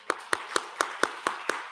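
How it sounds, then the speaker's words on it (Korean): A Korean church congregation at a Sunday Thanksgiving service applauds a newcomer, giving crisp, evenly spaced claps in unison at about four per second, nearby and clear. "박수하겠습니다"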